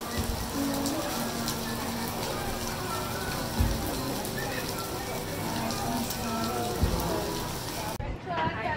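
Heavy rain pouring down at an outdoor arts festival, a dense steady hiss of drops on surfaces with a couple of brief knocks, cutting off abruptly near the end.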